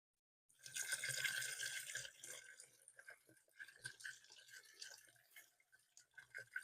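Roughly 1.25 litres of water pours into a pot for basmati rice, a bright splashing stream that starts abruptly and then thins into gurgles and drips, close by with no talking.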